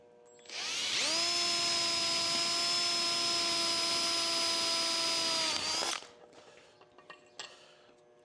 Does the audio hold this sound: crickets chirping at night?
no